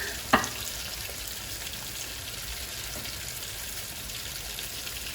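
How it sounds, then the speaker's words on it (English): Hot oil crackles and hisses steadily while spotted grouper fries in a pan, with one sharp, louder pop near the start and a dense drizzle of small spits throughout, close by with no talk. "So the oil is popping a bit."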